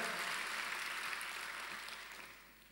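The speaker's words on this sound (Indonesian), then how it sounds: "kalau mau tepuk tangannya lebih dahsyat lagi buat Yesus Tuhan kita" Crowd applause in a church service, praising Jesus, a dense steady clapping that fills the room and fades slightly toward the end.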